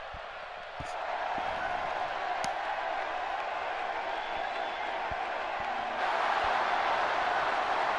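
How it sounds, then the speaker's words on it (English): A wrestling arena crowd in the video game WWE 2K17 roars in a sustained, dense cheer that swells louder near the end, with occasional sharp thuds and a commentator talking over it. "The crowd is going wild."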